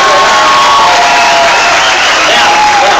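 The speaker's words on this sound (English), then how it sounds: "a big round of applause for these guys" A big crowd at a Christmas party dance-moves final roars with cheering, whoops and applause for a dance team, loud and sustained throughout with no clear speech.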